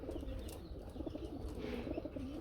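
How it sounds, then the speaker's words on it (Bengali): A lal patti pigeon coos softly and repeatedly in a loft, low rounded calls rising and falling over faint background noise, with occasional chirps nearby. "প্রতিটা জোড়ার কবুতরই খুবই সুন্দর ডাকে"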